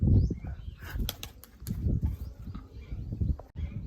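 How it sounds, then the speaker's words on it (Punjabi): A burst of wing flaps and flutters, fairly close, as released pigeons take off in a rapid uneven rhythm over some outdoor background noise. "ਹੁਣ ਛੱਡਦੇ ਆ ਕਬੂਤਰ"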